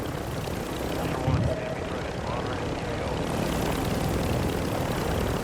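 Helicopter rotor and engine noise in the Call of Duty DMZ video game, a steady broadband drone running throughout, with a brief low thump near the start.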